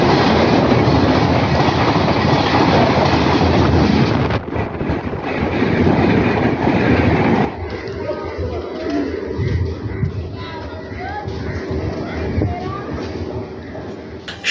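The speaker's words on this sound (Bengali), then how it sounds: "শক্তিগড় স্টেশনে আমার আজকের তৃতীয় ট্রেন" Burdwan–Howrah local train 36844 on the chord line near Shaktigarh, loud rushing wheel and wind roar that drops midway to a quieter rolling rumble with faint rhythmic rail clatter.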